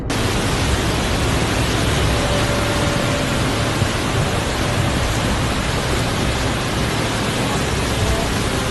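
Heavy rain pours down during flooding, a loud, unbroken hiss that stays close and constant from start to finish with no pauses.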